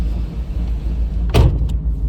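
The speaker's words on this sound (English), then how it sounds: "that's how this thing idles" A Chevrolet Camaro engine idles rough and cold at about 1200 RPM with the choke on, a deep shaking rumble close by, broken by a short sharp clunk partway through.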